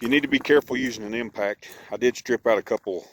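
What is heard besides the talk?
None of the usual background noises is heard.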